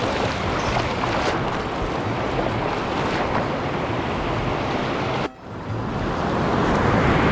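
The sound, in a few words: big sea waves crashing on the shore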